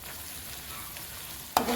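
Onion, tomato, ginger, garlic and chilli sauté in a pan for prawn biryani, giving a soft, even sizzle that ends in one sharp clack of a utensil near the end, close and without speech.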